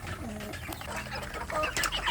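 Village chicks and chickens in a coop cluck and peep in quick, overlapping bursts, close and fairly loud, with busy rustling behind them.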